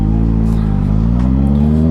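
A Kawasaki ZX-6R motorcycle pulling in second gear, a steady close engine drone with strong low harmonics holding level throughout, no voices.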